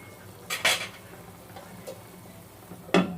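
A pot lid set down over simmering pork sinigang with taro: a couple of clattering metal clinks near the start and another sharp clink at the end, close by in a quiet kitchen.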